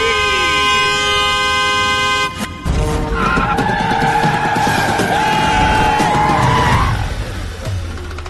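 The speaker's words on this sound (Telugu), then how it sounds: "please sound ఆరన" A car horn sounds in loud, sustained blasts, starting with one tone and then shifting to a harsher, layered honk, close by over engine noise.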